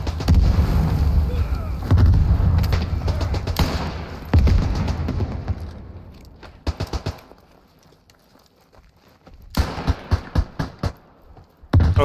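Grenade blasts and battlefield fire in the WWI shooter Beyond The Wire, heavy booms rolling over a loud din of combat, easing to a quieter stretch before a burst of sharp nearer shots; a player talks over it.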